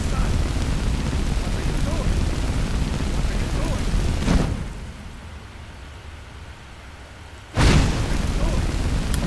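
Fire magic blasts in Skyrim on legendary difficulty, a sustained roaring rumble that cuts off briefly, then bursts back loud with a sharp blast onset.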